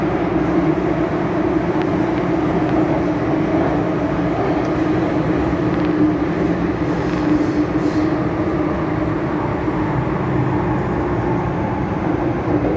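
Interior rumble of a Hong Kong MTR M-train running on the Kwun Tong line, a loud steady roar with low mechanical hum and rail noise throughout, no talking.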